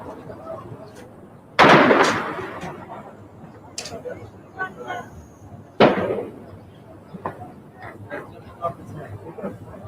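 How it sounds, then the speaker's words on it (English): Two sharp, loud gunshot-like bangs several seconds apart, each ringing out briefly over a steady background of murmuring voices and crowd noise. "That's gunfire."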